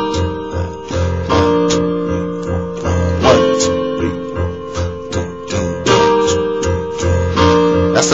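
Piano plays a song with a bouncing F bass note under repeated chords, close and clear in a steady rhythmic pattern with no voice over it.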